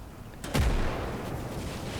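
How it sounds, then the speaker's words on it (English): A single loud, sharp blast of artillery fire in the World War II strategy game Gates of Hell, Finland campaign, with a deep low thump at impact followed by a sustained rumbling tail. "That looks like a great place for an artillery strike, doesn't it?"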